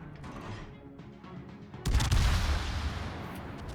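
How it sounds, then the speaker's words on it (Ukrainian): A powerful cruiser cannon blast from World of Warships booms out abruptly partway through, followed by a deep rumbling roar that slowly fades, after quieter mechanical noise. "Мені подобається такий потужний потужний постріл."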